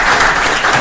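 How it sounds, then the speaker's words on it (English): Audience at a book launch event applauds, a brief burst of dense, steady clapping filling the room at close range. "I think a round of applause for Chris, first of all."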